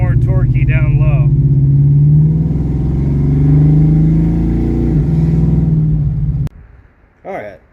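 A 1965 Mustang with a 302 Windsor V8 and tunnel ram intake revs up loudly, holding a rumbling roar before cutting off sharply, with brief voices before and after.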